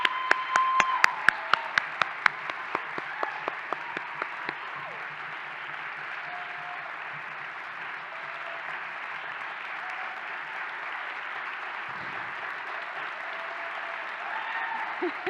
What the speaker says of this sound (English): let's welcome our 6 students back on stage and give them a well-deserved round of applause